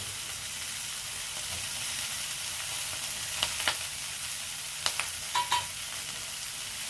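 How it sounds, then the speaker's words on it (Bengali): Chopped tomatoes sizzle and hiss steadily in a hot pan with fish curry base, with a few brief clinks of stirring toward the end. "দিয়ে আবার টমেটোটার সঙ্গে একটু ভেজে নিচ্ছি।"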